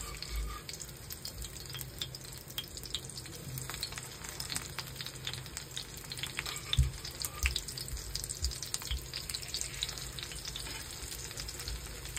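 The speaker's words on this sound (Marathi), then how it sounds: "तवा तापवायला ठेवूया आणि फ्राय करूया" Chicken tawa kabab, coated in egg and breadcrumbs, frying on a hot griddle, giving a steady, dense sizzle and crackle throughout with occasional louder pops and clinks, close and continuous.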